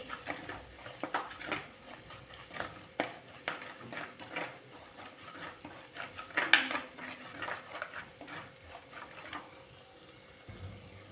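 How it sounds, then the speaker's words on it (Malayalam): Coriander and turmeric powder are stirred in a hot pan for a snakehead fish (varal) curry, with light clinks and scrapes of a utensil against metal, faint and close, tapping in an irregular rhythm. "അര ടീസ്പൂൺ മല്ലിപ്പൊടിയും ഒരു കാൽ ടീസ്പൂൺ മഞ്ഞൾപ്പൊടിയും കൂടെ ചേർത്ത് കൊടുക്കാം നന്നായിട്ടൊന്ന് വഴറ്റി"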